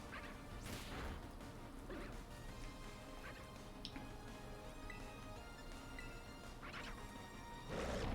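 Pokémon hammer smash attack in Pokémon Scarlet: heavy crashing impacts with whooshing swings, a loud smash near the start and another near the end over dense game sound.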